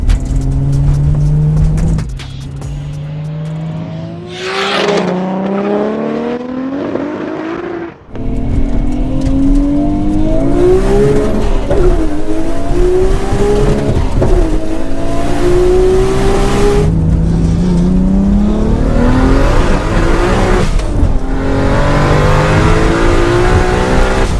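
An 800hp Nissan R34 GT-R and a 900hp Toyota Supra roll race, engines roaring loud and close through rising gear pulls with sharp shift breaks, a brief lull, then sustained hard acceleration.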